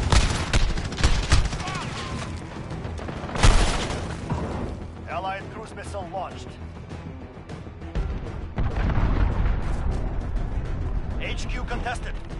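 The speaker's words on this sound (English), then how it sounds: "Allied cruise missile launch." Cruise missile strike in the Modern Warfare video game: loud, continuous rumbling booms and crackling blasts roll on near and far across the whole stretch, with a game announcer's voice and whistling effects partly mixed over them.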